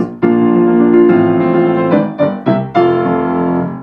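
Piano chords struck in a steady, quick but even rhythm, ringing full and loud with a few crisp accented hits near the end.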